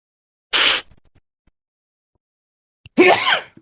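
Two sharp, forceful bursts a couple of seconds apart, the second a voiced sneeze, each short and loud against near silence.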